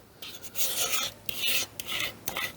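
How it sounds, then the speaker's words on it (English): A utensil scrapes out a bowl after a slow cooker meal, in several close raspy strokes separated by short pauses, loud and dry with no talking. "Scrape your bowls out, guys."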